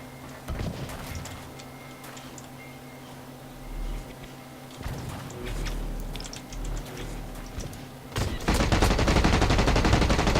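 Sniper gunfire in the shooter Blacklight Retribution, scattered sharp shots with mechanical clicks and clatter over a steady hum, building to a louder sustained burst near the end.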